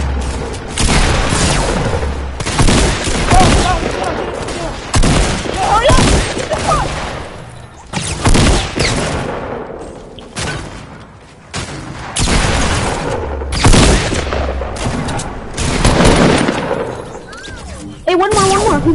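Dense video-game gunfire, bursts of shots and booms packed across the whole stretch with little pause, loud and close, while players call out to each other throughout.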